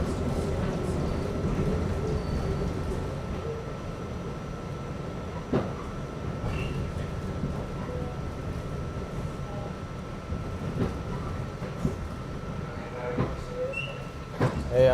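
A New York City subway train pulls into the 30th Avenue stop in Queens, with a rumbling rolling roar, metallic squeals and clanks, and a few sharp knocks near the end.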